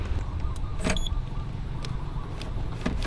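Electric steering lock on a Yamaha TMAX 530 DX scooter engaging, heard as a short motorized whir and click close by over a steady low background hum, with a few faint ticks afterward.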